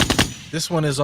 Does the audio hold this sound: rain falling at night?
no